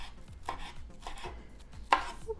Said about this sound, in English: I'm actually going to chop it with some freshly chopped chives.